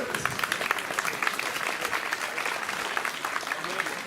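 Applause from an audience of about 600 German Christians at a talk on the State of Israel, a dense steady patter of many hands lasting throughout, with some voices mixed in.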